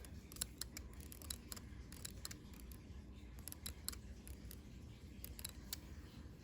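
Scissors chop extra fabric off a sewn swimsuit piece, making faint, close, irregular snips and clicks over a quiet, low room hum.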